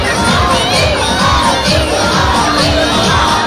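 Huge roaring crowd lining both sides of the road for a Prime Ministerial election road show in Varanasi, loud dense cheering and shouting carrying on without a break, with steady rhythmic pulses underneath that suggest a band.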